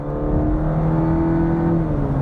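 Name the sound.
2023 Cadillac CT4-V 2.7 litre four-cylinder engine accelerating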